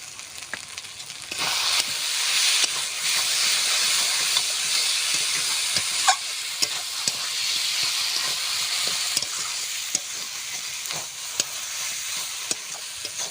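Ghee and garam masala sizzle in a pan with banana flower being fried, a loud close hiss that swells and settles, dotted with light stirring clicks and taps, no voices.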